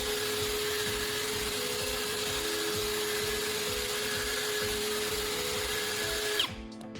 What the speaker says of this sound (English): I gently run the blade over the felt pad, which removes any burrs and polishes the edge.